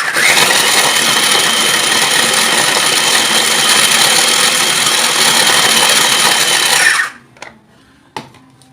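A food processor whirring loudly and steadily as it chops bell peppers and onions together, a dense motor drone that runs for about seven seconds and then stops abruptly, followed by a couple of faint clicks.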